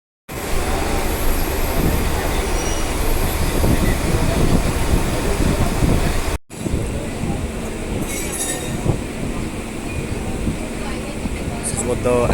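A Mumbai local train rolls along with a loud, steady roar of wheels and carriage rattle. A high squeal of the wheels cuts through near the end, and a brief break midway interrupts the continuous din.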